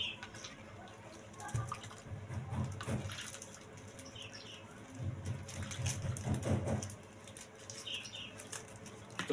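Strawberry-flavored ice pop liquid for Mambo ice is poured into thin plastic bags, giving two soft bursts of splashing, gurgling pour with light rustling in a quiet room.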